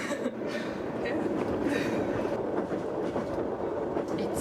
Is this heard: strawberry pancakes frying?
no